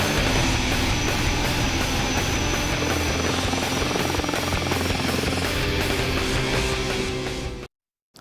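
Military aircraft on the tarmac after a flight, its engines giving a loud, steady, close roar with a droning whine that continues unbroken and then cuts out abruptly near the end.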